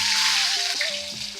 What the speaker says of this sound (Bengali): তেল গরম হয়ে গেছে, দিলে এর পেঁয়াজ